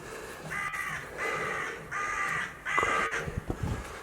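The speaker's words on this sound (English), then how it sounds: "Crows calling." Several crows caw in repeated bursts outdoors on a public walkway near a castle above a valley in Landshut, Bavaria, with four harsh calls of similar length spaced about half a second apart, moderately near and clear.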